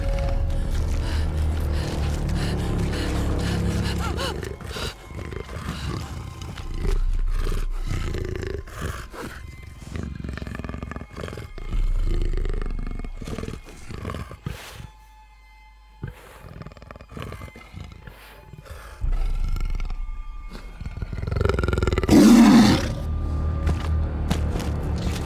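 A large big cat in Shadow of the Tomb Raider, a panther or puma of tiger-like size, lets out deep, loud roars and growls over game music and rumbling, with a louder snarling burst near the end.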